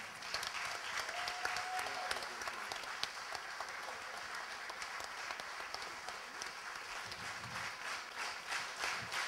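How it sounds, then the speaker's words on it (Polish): A gala concert audience in Lubsko claps for a performer named Tatiana, a long, even, dense round of applause lasting over nine seconds, full and steady with no break. "Brawa dla Tatiany."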